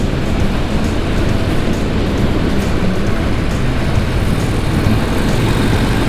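A 2023 Harley-Davidson Breakout motorcycle roars under open throttle, a loud continuous rumbling exhaust blended with heavy wind rush, steady and close throughout.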